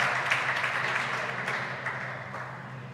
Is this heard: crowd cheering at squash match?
yes